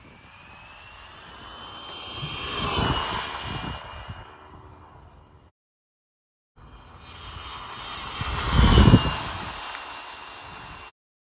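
A Laegendary Thunder RC car on a 4S LiPo with a 120A ZTW ESC makes two high-speed passes outdoors, each a whining motor roar that swells as it nears and fades away, separated by a brief silent gap.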